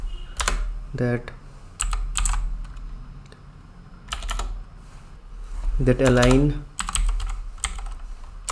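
Computer keyboard keys clatter in quick bursts of typing while a line of CSS code is written, with a person talking over much of the clicking.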